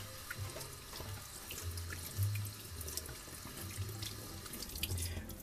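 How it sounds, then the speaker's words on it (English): Water runs steadily from a tap during handwashing in a home kitchen, a continuous close splashing stream with small bumps as hands move under it, no talking. "Proper hand washing and sanitizing is very good."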